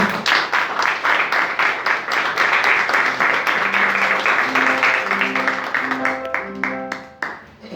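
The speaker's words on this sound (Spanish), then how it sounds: "Denle un fuerte aplauso al Señor." A church congregation applauds at a Spanish-language service, dense continuous clapping with rhythmic pulses and a musical tone rising underneath, fading near the end.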